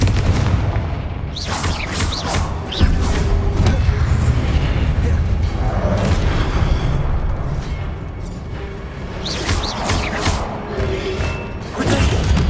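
Confringo fire spell explosions in the Hogwarts Legacy video game, a run of loud booming blasts and thuds through a dense, busy battle soundscape, with a voice casting spells between them.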